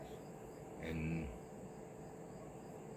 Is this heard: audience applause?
no